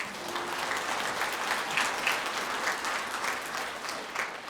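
Audience applause fills the hall at the 105th anniversary memorial ceremony for the Cheongsanri victory in Korea's independence war, a steady, dense wash of many clapping hands at moderate distance, continuing evenly throughout with no speech over it.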